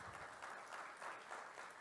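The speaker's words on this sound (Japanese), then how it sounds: "政治家の方も拍手してくださったらありがとうございます" An audience at a constitution forum applauds, a faint, even wash of clapping from a large hall that holds steady for a couple of seconds.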